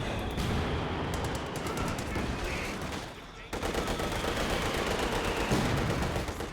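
Dense battle audio from Company of Heroes 2 fills the clip, with rapid rattling gunfire, shots and explosions in a continuous barrage as an anti-tank gun opens fire, growing louder partway through.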